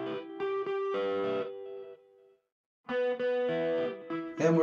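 Electric guitar through an effects unit with a quarter-note delay, distorted and chorus-tinged tones ringing in two bursts with repeating echoes trailing each phrase, a short silent gap between them.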